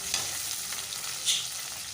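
Washed shrimp frying in hot oil with tempering spices in a pan, a close, even sizzle with a soft spatter burst midway.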